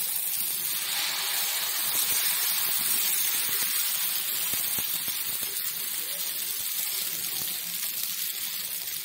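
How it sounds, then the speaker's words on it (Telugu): Black-eyed pea dosa batter spread on a hot dosa pan hisses and sizzles steadily, with a bright airy crackle that holds at an even level throughout. "చాతల దోశ పాన్ హీట్ పెట్టండి మనం దోశ వేసుకుందాము"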